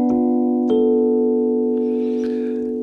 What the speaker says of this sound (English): the seven half-diminished seventh chord, or the seven minor, seven flat five, which sounds like this.